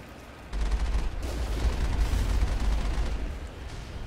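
Enemy gunfire in Mass Effect during a battle at a Geth outpost, a low rumbling barrage that swells in abruptly and keeps pounding with heavy bass before easing slightly near the end, no voices.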